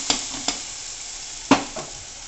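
Sliced onions go into hot oil in a pan with curry leaves while Sindhi besani tikki is being made, giving a steady soft sizzle with a few sharp stirring knocks.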